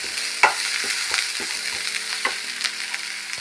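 Crushed black pepper fries in a pan: a close, continuous sizzle with quick scraping stirs and small taps of a spoon, one sharper clack near the start, no voices.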